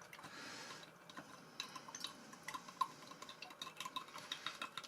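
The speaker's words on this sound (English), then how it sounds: "Let's give this a bit of a" Stirring a German EPA military ration meal from 2009: faint soft liquid swishing with small clinks of a utensil against the container, close by and quiet, with no talk.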